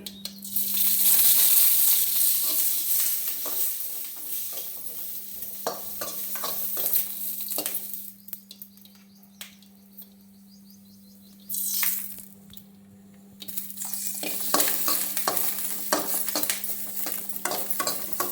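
Green chillies frying in oil for an okra chutney, a loud close sizzle with stirring scrapes, dropping away to near quiet midway before the frying hiss returns strongly, with a low steady hum underneath.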